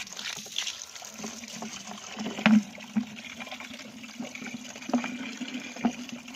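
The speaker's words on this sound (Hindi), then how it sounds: "उसके बाद प्रेशर वाला इसमें पानी भर के इसको अच्छी तरह डालना है" Pressurized water gushes into a car headlight housing to flush out cleaner, giving a steady low wash of running water with a few splashy bursts and gurgles throughout.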